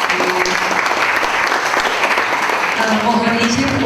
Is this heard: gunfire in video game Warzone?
no